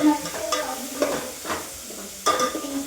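Onions, tomatoes and chillies sizzle in a pan while a spoon stirs them in a few distinct scraping strokes, close and steady, with no talk over the frying.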